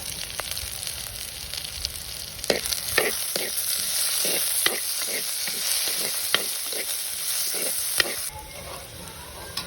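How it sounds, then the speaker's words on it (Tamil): Onions and green chilies sautéing in oil over low heat, a continuous bright sizzle running throughout, punctuated by repeated spoon scrapes and taps against the pan at an irregular rhythm, close and fairly loud. "வெங்காயம் எல்லாம் வதங்கிடுது பச்சை மிளகா அந்த மெல்லிய சூட்டில் வதங்கிடும்"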